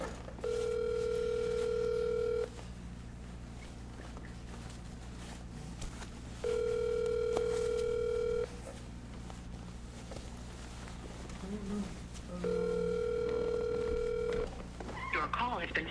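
Outgoing phone call ringback tone on an unanswered line: three long, evenly spaced rings about two seconds each with pauses between, heard over steady background hum and faint movement.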